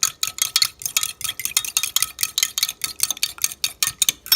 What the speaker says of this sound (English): So I'm just going to mix this together.